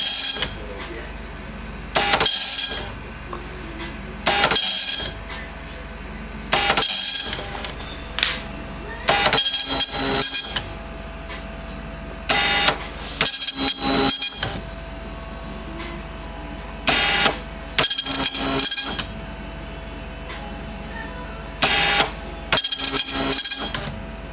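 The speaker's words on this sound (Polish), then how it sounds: "O, coś drukuje." Repeated bursts of mechanical whirring and clattering from a Seikosha SL 80IP printer running, separated by short quiet pauses, with faint talk in the background.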